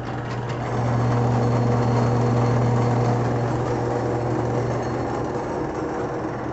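Pasta roller machine rolling eggless semolina-and-water dough, a steady motorized whir with a constant low hum, loud and close throughout.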